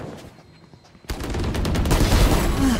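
Gunshots in the tactical shooter Valorant, with a few faint shots at first and then a sudden loud burst of rapid fire that keeps going, close and dense.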